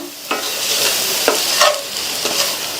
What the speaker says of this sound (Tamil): ஒரு 2-3 நிமிஷத்துக்கு நல்லா எண்ணெயிலேயே ஃப்ரை ஆகி உருளைக்கிழங்கு நல்லா சாஃப்டாக வந்துடும்.